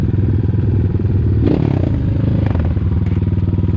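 ATAKI DR 250 motorcycle engine while riding, a loud close steady drone with rattling and scraping clatter from the bike over rough ground, no talking.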